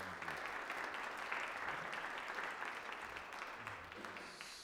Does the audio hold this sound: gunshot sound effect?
no